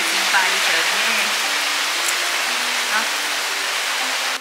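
Heavy rain pours steadily in Bali, a dense, even hiss of falling water close by with no pauses, while people talk over it.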